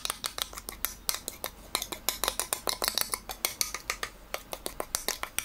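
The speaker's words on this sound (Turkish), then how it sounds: "Harcımı kabıma boşaltıyorum." Lentil batter is scraped from a bowl into an oiled baking dish, producing a rapid, close series of sharp clacks and scrapes of a utensil against the dishes, with no talking.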